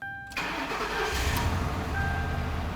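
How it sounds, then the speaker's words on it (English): A 1998–2012 Ford Crown Victoria with newly replaced spark plugs cranks briefly and catches, its engine settling into a steady, slightly rough idle close by. "So now it's going to be time to try starting the vehicle."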